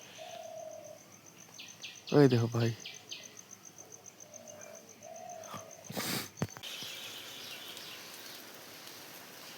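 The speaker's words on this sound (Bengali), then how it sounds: "শুধু পাখির কিচিরমিচির শুধু শব্দ" Birds chirping outdoors on a quiet morning, with short bright tweets scattered across the stretch and a steady faint insect-like drone underneath; someone speaks briefly partway through.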